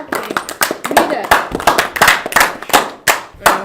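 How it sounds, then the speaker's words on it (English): A single person claps hands in a quick, uneven run of sharp, close claps, with faint voices mixed underneath. "I'm the only one clapping."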